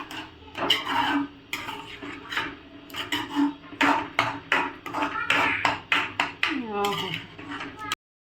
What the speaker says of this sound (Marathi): तर हे मी थोडंसं असं छान परतून घेते